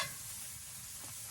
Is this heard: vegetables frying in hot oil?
yes